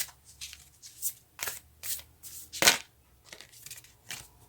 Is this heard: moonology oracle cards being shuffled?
yes